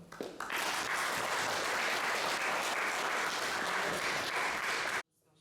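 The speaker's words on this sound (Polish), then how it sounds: "Gorące brawa." Warm audience applause at a culture patronage award ceremony in Siedlce, dense even clapping from a crowd that holds steady for about five seconds and then stops abruptly.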